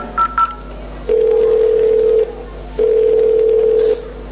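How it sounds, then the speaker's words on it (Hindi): A pair of brief dialing beeps, then two long steady electronic tones separated by a short pause, like a phone dialing and ringing out; no talking. "मैं अब भी मेरे बेटे को फोन करती हूँ"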